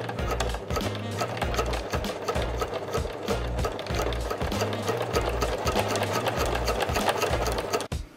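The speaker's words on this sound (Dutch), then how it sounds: "Dus dan gaan we de emblemen erop maken nou, met de naaimachine." A sewing machine stitches emblems onto a carnival jacket, running continuously and loud with a fast, steady mechanical rhythm for the whole stretch, with no talk over it.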